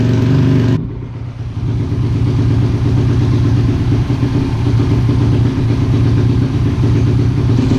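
A motorcycle engine idles right after a cold start, a loud, close, steady throbbing rumble that sags briefly just after the opening second and then settles into an even beat; no one talks.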